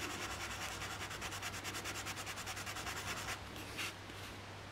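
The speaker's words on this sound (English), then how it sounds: "what I'm going to be doing is sanding two flat edges" Rhythmic back-and-forth strokes of a sanding block on flat edges, close and steady, rasping against a surface for a few seconds before stopping.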